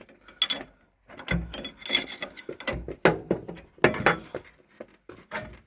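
Small hand tool tightening a clip on a VW Beetle part being prepared for a trial, heard as a series of close, irregular ratcheting and rubbing clicks in short bursts with brief pauses.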